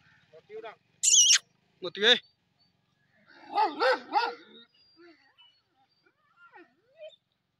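An agitated hunting dog of a greyhound-type breed barks at other dogs on the far bank, giving a few sharp barks and yelping cries in short bursts separated by quiet gaps.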